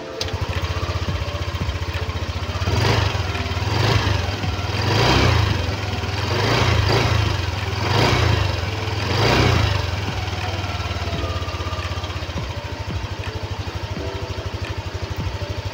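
A Yamaha Aerox 155 Standard (V2) scooter engine idles close by with a low, steady putter, revved in several short surges before settling back to idle.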